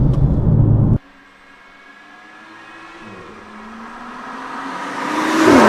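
A BMW M2 with a DCT gearbox, heard from outside: a loud burst of engine noise cuts off abruptly, then a rising rev builds steadily toward the end, with no talking.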